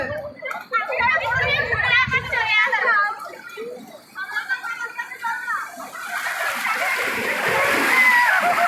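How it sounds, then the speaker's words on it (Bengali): Sea waves surging and splashing at Digha Mohana beach, a rising wash of water building to a broad rush, with excited voices and children talking loudly over it. "দেখো কত বড় ওই ঢেউটা আসছে।"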